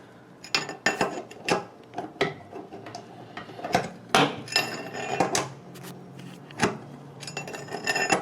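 A bathroom sink faucet part being loosened counterclockwise with a tool, giving a series of sharp metallic clicks and clanks at irregular intervals, close by over a quiet room hum.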